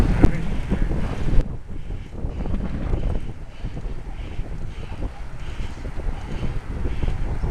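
Steady gusting wind buffets the microphone during a road bike ride in England, a continuous low rumble with dull thumps, close and fairly loud, with no voices.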